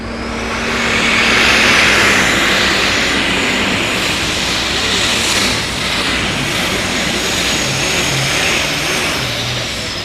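An unlimited super stock pulling tractor roars loud and close as its engine strains against the sled, a harsh sustained blast that dips briefly midway as the wheels hop.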